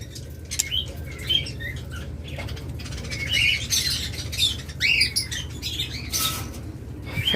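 Caged pet birds such as lovebirds, budgerigars and cockatiels squawk and chirp in sharp, scattered bursts, some close and loud, over a constant low background hum.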